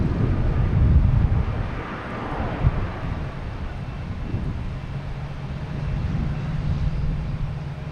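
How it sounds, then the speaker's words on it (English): A United Airlines passenger jet arriving from Newark lands on runway 27 at Boston Logan, a steady broadband roar with wind buffeting, loudest early on and easing into a sustained low rumble. "We just had United Airlines landing from Newark on 27."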